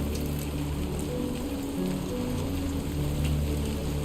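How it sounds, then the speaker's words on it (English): Rain hisses down continuously in Death Stranding 2, a constant dense patter layered over low game ambience and lasting the whole stretch without talk. "It's raining."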